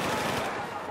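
Rapid gunfire from a Magnum revolver in the Xbox One shooter Battlefield 4, Gun Master mode, a dense continuous burst of shots filling the short moment amid game noise.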